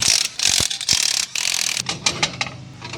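Hand ratchet with a 9/16 socket and extension working loose the mounting nuts of an electric trailer brake on an IronBull dump trailer, several quick clicking ratchet bursts, close and loud, no talk.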